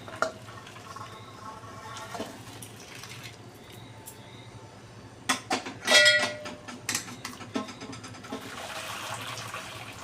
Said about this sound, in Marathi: आता आपण हे पाणी सगळं यामधलं ड्रेन करून घ्यायचं आहे